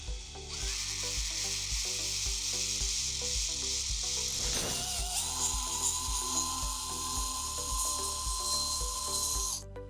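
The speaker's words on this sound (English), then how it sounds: "now I drilled that as carefully and as straight as I possibly could" A power drill bores a hole in metal ahead of thread tapping, a loud continuous whine with a regular pulsing beat and a shift in pitch midway as the bit cuts through.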